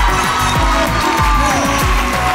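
A television studio audience on a Pakistani game show cheers and claps loudly in a sustained burst, while upbeat music with a pulsing beat plays underneath.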